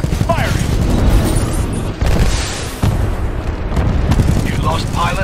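Titan weapons fire and explosions crash through a Titanfall 2 battle, loud continuous booming and rumbling with sharp breaks, while a voice speaks over the din.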